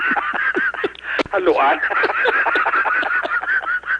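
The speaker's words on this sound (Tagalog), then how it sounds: "Mga bukid-bukid na mga manok na ito, mga endangered na species na ya." Native Visayan chickens, an endangered breed kept at a zoo, cluck and call in busy overlapping bursts, close and fairly loud, with a person speaking briefly among them.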